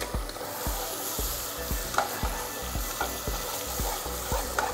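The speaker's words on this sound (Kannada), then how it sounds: "ಇದು ರುಬ್ಬಿರೋ ಈರುಳ್ಳಿ ಹಾಕಿದ್ದೀನಿ ನಾನು" Ground onion frying in hot oil for a mutton paya leg soup, a loud, dense sizzle broken by regular utensil scrapes and taps roughly every half second as the paste is stirred.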